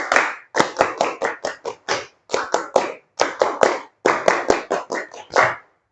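A group performs the Pramuka scout clap, loud and close, in rhythmic patterned bursts of sharp claps separated by brief pauses, repeated twice.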